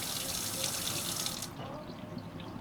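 Water runs steadily from a touch-activated kitchen faucet into a sink, a bright continuous splash that softens partway through as the flow changes.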